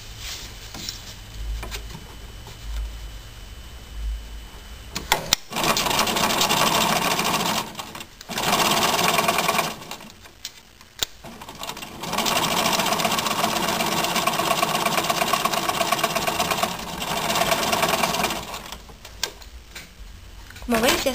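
A sewing machine stitches along the sides of fabric for a tissue holder in steady, loud mechanical runs of rapid needle clatter, stopping and restarting several times with short pauses between seams.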